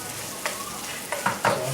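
Onions browning in a small pan on a portable butane burner, a soft steady sizzle broken by a few quick stirring scrapes and clinks.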